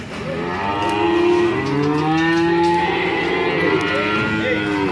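Several cattle moo loudly and overlap at a livestock market, long drawn-out lowing calls filling the air, with a faint murmur of people in the background.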